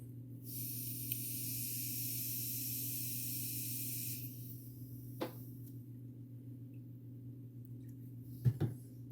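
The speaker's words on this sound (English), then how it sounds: "So now I'm just gonna mix up some black pretty thin on my airbrush." Airbrush misting thin black paint, a steady airy hiss that runs for about four seconds and then cuts off, over a constant low compressor hum with a couple of brief clicks near the end.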